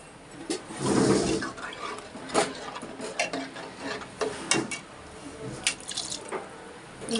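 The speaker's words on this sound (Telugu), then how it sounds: "ఇందులో తగినంత వాటర్ పోసుకుందాం" Water is poured into a pot of sambar, with a splashing gush followed by drips, sloshing and some utensil clinks close by.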